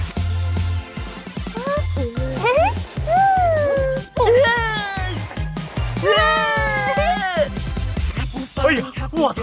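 A cartoon cat meows several times in rising, bending cries over a steady rhythmic music bed, with childlike character voices mixed in.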